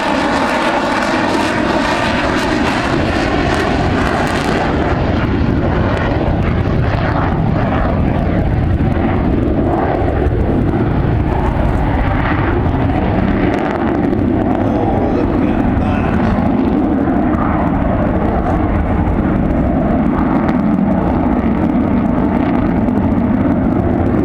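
A Vulcan bomber jet roars loudly and steadily overhead during a flying display at the Farnborough Air Show, its engine noise sustained and close throughout.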